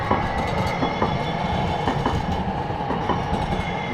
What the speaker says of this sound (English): It's another 2 train.